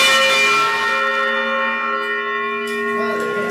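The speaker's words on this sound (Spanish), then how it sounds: "repique de campana resultan interminables cuando uno está justo debajo de ella" A large church bell in the Arantzazu bell tower near Oñati, heard from directly beneath it: one loud, rich strike that rings on with a long, slowly fading hum of overtones, close and dominant with no talk.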